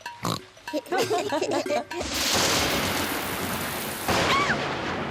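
Cartoon thunderstorm, a loud crash of thunder rolling on for several seconds after a stretch of excited children's chatter, with a little pig-like squeal near the end.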